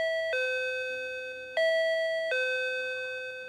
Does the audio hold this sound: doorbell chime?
yes